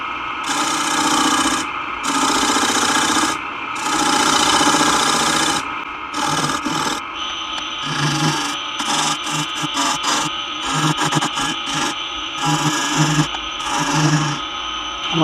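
Wet cherry wood bowl being sanded on a spinning lathe, a steady close rubbing hiss in long continuous passes with brief pauses, the motor's hum running underneath throughout.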